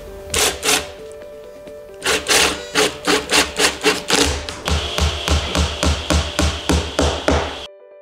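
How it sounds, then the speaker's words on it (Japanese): Screws driven into a wooden inner window frame from the back with a power driver, heard as loud, close, rapid rhythmic bursts of tapping and knocking that pulse repeatedly for about eight seconds before cutting off. "後ろ側からビスで留めてやりましょう。"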